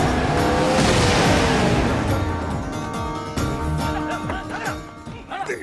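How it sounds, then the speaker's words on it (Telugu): A car arrives in a Telugu comedy film scene. A loud engine rush and a tire squeal swell at first, then ease off under a dense music bed. "ఆ రాజుగారి కారు వస్తుంది"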